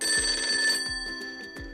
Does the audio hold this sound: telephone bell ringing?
yes